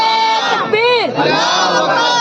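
A crowd at a religious gathering shouts a slogan together in response to a call, a loud, close chorus of voices with rising and falling pitch held across the whole stretch.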